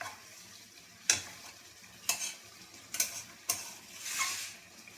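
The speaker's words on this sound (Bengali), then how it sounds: "পেঁয়াজি ভাজা তো হয়ে গেল," Onion fritters frying in a wok, with a faint background sizzle broken by four sharp scraping clinks of a stirring utensil against the metal, spaced about a second apart, near and without talk.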